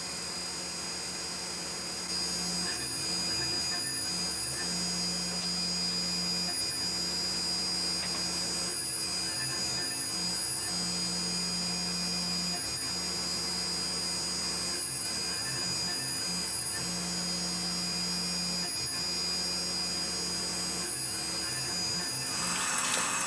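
A CNC mill cuts thumb studs and both clips out of a Timascus knife blank, a steady mechanical drone with pulsing low hum cycling every few seconds, close and continuous without speech.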